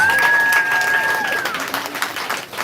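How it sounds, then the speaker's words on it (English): Live poetry show crowd breaks into dense applause with cheering and a whistle, loud and close at first, then thinning out as voices mix in. "Give them a round of applause."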